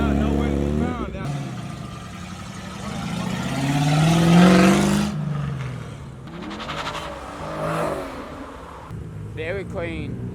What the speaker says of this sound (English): We have D3 Motorsports Darren driving in his R8